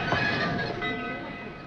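An old steam train, the Cannonball, wheezes on a spur line. A steady, hissing, rumbling chuff carries at moderate distance, continuous and unbroken, with no voices.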